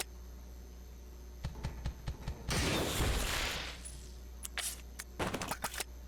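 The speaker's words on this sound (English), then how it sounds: "I'm going to magnum this thing down" Magnum revolver shots in the Resident Evil 0 HD Remaster video game: a few sharp cracks followed by a louder burst with a ringing tail, then more quick clattering hits.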